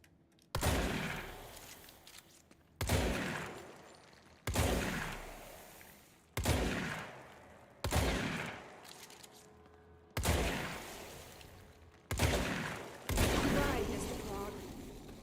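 Repeated heavy gunfire from the Service Weapon in the video game Control, seven sharp loud blasts spaced roughly two seconds apart, each with a decaying rumbling tail.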